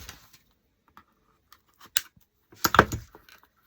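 Scissors snipping cardboard butterfly cutouts, a few sparse close crisp cuts and rustles, with a louder cluster of snips and handling noise near the end.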